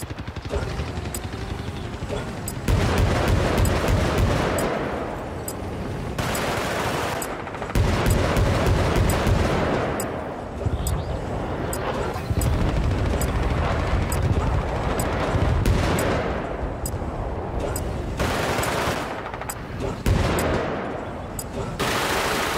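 Gunfire in the video game Battlefield: Bad Company 2, with dense bursts of automatic fire and loud shots recurring across a chaotic battlefield soundscape, occasional voices mixed in.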